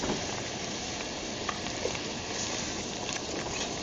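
Seasoned rice for Puerto Rican style rice and beans sizzles steadily in a hot pot while being stirred, a continuous crackling hiss with a few faint scrapes and clinks.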